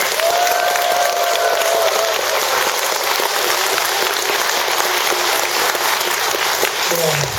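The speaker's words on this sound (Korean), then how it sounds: "박수 한번 더 주십시오." A live audience claps steadily through a talk-show concert segment with monks. The dense applause is loud and continuous and fills the whole stretch, with a brief voice faintly under it.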